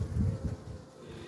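Honey bees buzz at an open hive during a beekeeper's work, a low droning hum that is loudest at the start and then eases off, close by and with no speech.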